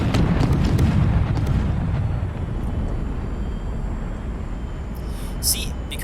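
Bombs dropped by planes explode against ships in the naval strategy game HighFleet: a loud booming blast with rumbling debris in the first two seconds, fading to a low rumble, and a faint sharp pop near the end.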